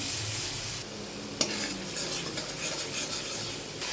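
Water goes into a pan of well-sautéed spices for a fish curry and is stirred in, bringing a quiet, continuous sizzle with soft spoon scrapes and one sharp clink early on.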